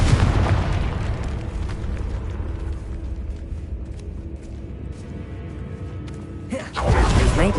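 Confringo spell explosion in the Hogwarts Legacy video game, a heavy rumbling boom that decays slowly, followed by a second loud blast near the end.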